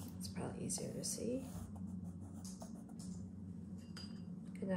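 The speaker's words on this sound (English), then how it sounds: "I'll switch to my watercolor pencil by Strathmore." A Strathmore watercolor pencil scratches across sketchbook paper in quick, close strokes, with a few light clinks of nearby tools.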